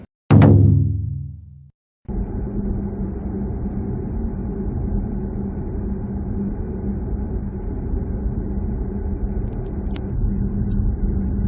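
BYD Seal electric car cruising on a highway in summer, a steady broadband road and tire rumble inside the cabin after a loud thud at the start, continuous and fairly loud.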